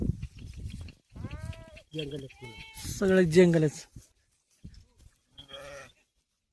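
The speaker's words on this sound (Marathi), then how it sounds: "मेंढ्या पाहिल्या नसेल तर मेंढ्या पाहून घ्या" Sheep bleat repeatedly out in open country, several wavering calls close by, mixed with people talking around them.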